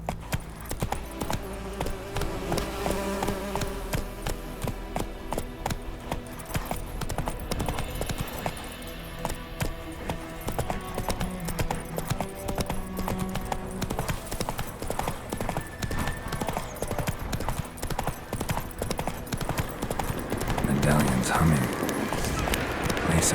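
Roach galloping in The Witcher 3, a rapid, unbroken hoofbeat rhythm up close, with game music beneath and voices talking over parts of it.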